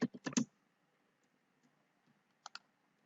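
A computer keyboard clicks as a command is typed at a virtual machine's prompt: a quick burst of several keystrokes, then near silence, then two more sharp taps, close and quiet with no talking.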